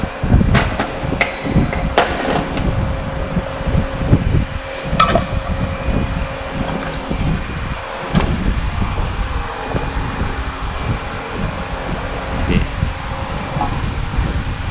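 Repeated sharp metallic hammer strikes on a Toyota Vigo front drive shaft, irregularly spaced, ring out over a steady mechanical hum and background noise in a workshop.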